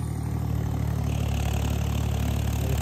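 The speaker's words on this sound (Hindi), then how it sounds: "एक तो ट्रैक्टर भी आ रहा है ये साइड, ये दूसरा का ट्रैक्टर है।" A tractor engine in a grassy farm field gives a steady, low, throbbing drone at an even pace throughout, fairly close and alone.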